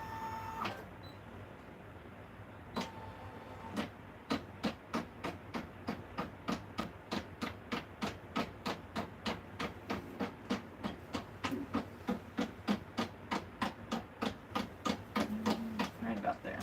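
A sewing machine stitching fabric runs as a steady train of close mechanical clicks that starts slowly and quickly settles into a fast, even rhythm, with a faint hum under it.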